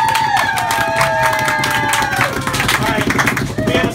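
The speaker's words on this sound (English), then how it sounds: "Give him a round of applause." A restaurant crowd claps and cheers for a birthday, busy applause mixed with chatter and whoops, loud and close throughout.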